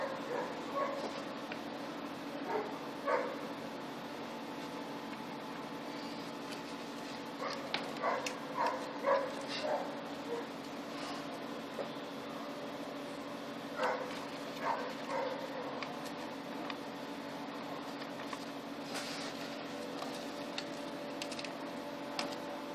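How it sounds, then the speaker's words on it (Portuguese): Dogs bark in scattered bursts at a distance, faint over a steady low background hum, with quiet gaps between. "Os cães latindo."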